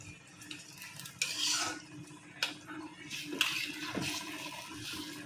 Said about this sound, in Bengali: এই পর্যায়ে আমি মাছগুলো দিয়ে দিব